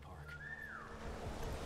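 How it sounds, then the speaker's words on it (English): A single whistle from a character distracting a guard in the video game War Mongrels, one rising then falling tone over a low game-ambience bed, moderately faint. "With whistle."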